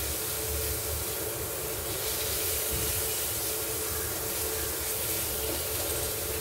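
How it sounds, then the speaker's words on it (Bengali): Salted, boiled, seasoned meat fries in a pan, giving a loud, steady, broadband hiss that runs unbroken for the whole stretch with no voices. "এবার এগুলো আবার ভাজা ভাজা করে নিচ্ছি।"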